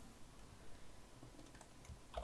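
Quick tapping on a computer keyboard, a short burst of soft key clicks heard faintly and close up, alone.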